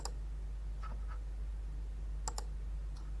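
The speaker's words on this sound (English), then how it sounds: "so you can click record" A mouse click to start recording in Google Meet, a sharp single click at the start and a quick double click later against a quiet background hum.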